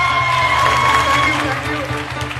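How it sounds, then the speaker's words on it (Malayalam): An audience at a Kerala Piravi gathering applauds loudly, a dense wash of many hands clapping with some cheering and crowd voices mixed in, close and sustained before easing slightly. "ഇതിനൊരു വൻ കയ്യടി കൊടുത്തേ മതിയാവൂ പ്ലീസ്."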